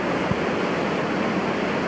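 Sea waves crash at Tanah Lot in Bali, heard as a loud, steady, roaring wash of surf close by with no talking.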